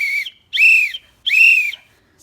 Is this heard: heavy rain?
no